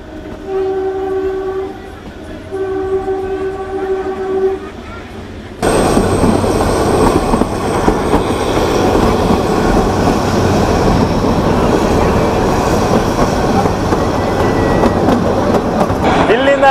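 Himalayan Queen toy train on the Kalka–Shimla line: a horn-like tonal blast for the first five seconds, then loud, steady rumbling and clattering of the carriages running close by for the rest.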